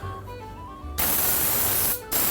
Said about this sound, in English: you want to make sure you spray your pan